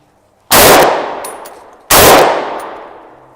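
Two loud SKS rifle shots about 1.4 seconds apart, each a sharp crack with a long decaying echo, close and alone with no talk.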